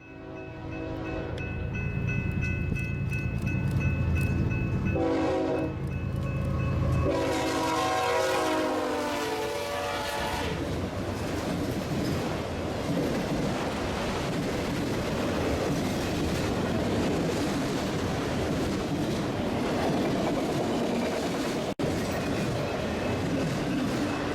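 A freight train horn sounds in several long blasts as the heavy train rumbles past a road crossing near Albuquerque, New Mexico, then wheels clatter and roar steadily along the track.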